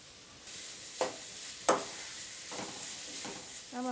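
Vegetables sauté in a hot pan for veg fried rice, a soft steady sizzle broken by a few sharp clinks and scrapes of a spatula stirring against the pan.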